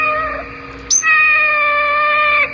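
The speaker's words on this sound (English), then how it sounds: "She's only a cat." Cat caterwauling in a drawn-out, loud, close yowl, one long wavering cry with a brief sharp break near the middle before it resumes and holds steadily, then cuts off.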